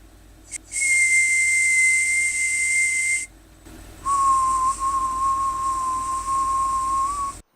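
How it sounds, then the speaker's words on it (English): Teeth whistling at a whistling workshop in Mumbai, heard as a high, airy, hissing whistle held for a few seconds, then a lower steady tone that carries heavy breath noise, close and loud with no talking. "Teeth whistling."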